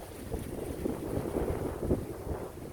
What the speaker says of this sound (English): Even on a windy day.